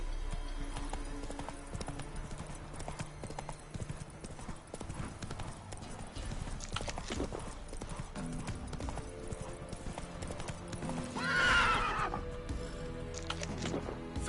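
A horse in The Witcher 3 gallops with steady rapid hoofbeats, then lets out a loud whinny near the end, over background game sounds.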